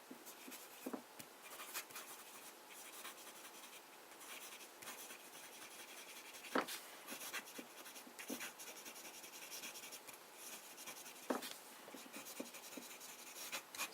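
Broad-nibbed Conway Stewart Edgcumbe fountain pen scratching steadily across paper, a close, continuous rasp of strokes with small taps and pauses between words, no voices.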